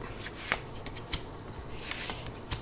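Tarot cards handled and laid out on a table, soft papery shuffling and rustling with several sharp little snaps and slaps, close and quiet.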